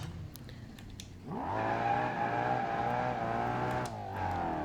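Bolide sports car in BeamNG.Drive with a 7,500 RPM redline, starting up and revving: a low idle drone, then a sharp rise into a loud, steady, harmonic-rich engine roar held for a few seconds before dropping back to idle.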